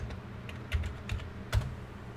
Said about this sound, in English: That was the old one finger typing.